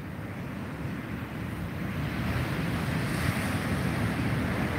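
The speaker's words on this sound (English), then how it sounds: "The waves look good." Ocean waves break on a deserted Florida beach during a tropical storm, a continuous heavy surf roar with gusting wind noise that swells slightly louder toward the end, no voices present.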